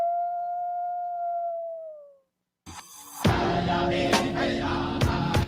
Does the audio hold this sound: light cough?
no